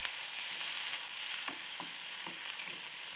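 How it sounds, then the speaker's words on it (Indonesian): A ground paste of garlic, shallot and pepper sizzles steadily in hot oil, with a few soft stirring scrapes, close and fairly quiet, with no talking. "jika minyaknya sudah panas, kita masukkan bumbu halusnya, kemudian ini ditumis sampai layu dan harum."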